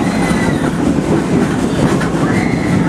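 The Frisco Silver Dollar Line train rolls steadily along its rails, a loud, close rumble with rhythmic clickety-clack and faint wheel squeal, heard alone without voices.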